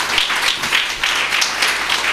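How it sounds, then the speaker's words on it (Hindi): A church congregation at a Christmas sermon claps in an uneven, pulsing wave of applause, fairly loud and continuous over the short stretch. "तालियां बजाएंगे"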